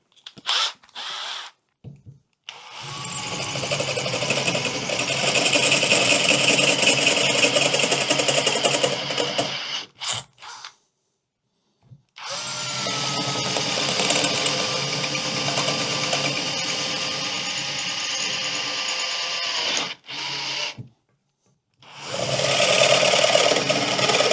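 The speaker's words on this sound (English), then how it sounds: "I'm going to put the 6mm drill bit in the drill and try and open these out" An electric drill with a 6mm bit whirs loudly in several long bursts separated by short pauses, opening out holes, its motor pitch steady through each run.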